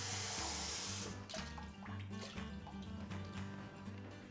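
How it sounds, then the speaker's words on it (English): Cold water pours steadily into a container of apple cider vinegar, a continuous close splashing and trickling with brief drips toward the end, no voices over it. "For about as much apple cider vinegar as I put in, I'm then gonna add cold water,"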